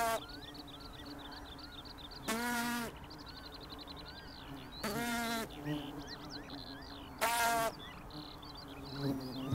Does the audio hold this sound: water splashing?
no